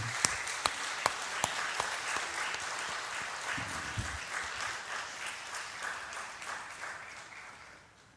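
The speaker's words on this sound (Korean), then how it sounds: "우리 박수로 맞이합시다" A church congregation at a Sunday service claps in welcome, a full, dense round of applause with a few louder individual claps near the start, steady throughout and gradually fading toward the end.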